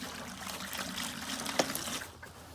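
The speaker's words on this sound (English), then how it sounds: "Just put a little bit of hot water here." Hot water trickles and pours into a milking bucket beside a single-cow milking machine, a faint, close, splashing stream over a couple of seconds.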